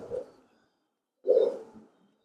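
Racing pigeons in a loft give two short cooing bursts, close and moderately loud, with a clear pause between them.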